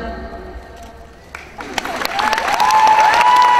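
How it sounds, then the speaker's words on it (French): Crowd applause for a Lulu, Yuna and Rikku cosplay trio, starting thin and quiet, then swelling after a couple of seconds into louder clapping with cheers and voices over it. "Les applaudissements pour le trio Lulu, Yuna et Riku"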